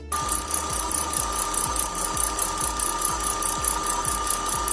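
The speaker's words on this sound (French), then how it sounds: "Et je remets en route mon robot." A kitchen stand mixer works choux pastry dough with eggs in a loud, continuous mechanical churn. A regular rhythmic knock and rattle repeats throughout.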